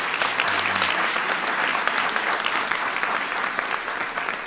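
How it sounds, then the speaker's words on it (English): A large audience applauds steadily at a political speech, a dense, continuous wash of clapping that holds evenly for several seconds with no voices over it. "Give Oracle a big round of applause for that."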